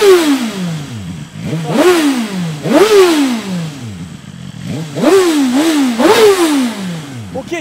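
A 2023 BMW M1000R motorcycle engine being revved up close and loud, with repeated throttle blips that rise sharply and fall back, some in quick pairs.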